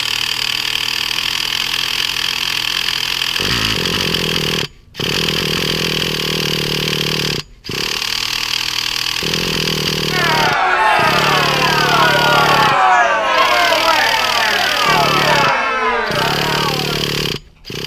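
A long-idle nitro engine in a Traxxas Slayer RC truck buzzes loudly and steadily, cutting out briefly several times before catching again, with a higher revving whine rising in the middle stretch.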